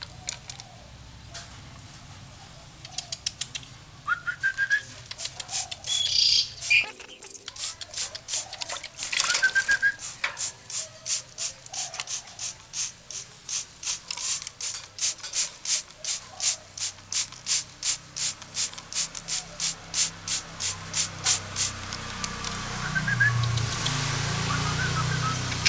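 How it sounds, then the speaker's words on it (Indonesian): Water sprayed onto a caged trucukan songbird to get it to bathe, heard as a long run of fast, rhythmic hissing spray bursts, close and fairly loud, with flapping wings and scattered bird sounds alongside. "Nah, disemprot dia mandi,"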